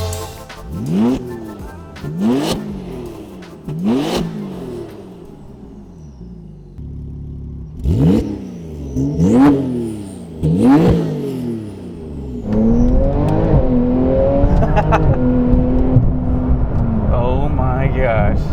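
A Porsche 992 Turbo S with all-wheel drive and aftermarket modifications accelerates hard in repeated loud revving pulls. Each pull is a rising engine note, and a sustained high-rpm roar follows near the end. Excited voices talk over it.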